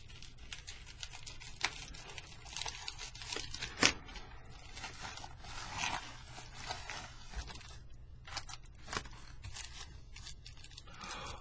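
Scissors snip through a plastic anti-static bag holding bayonet connectors, giving close, irregular cuts, scrapes and crinkles over a steady low hum, with no talking.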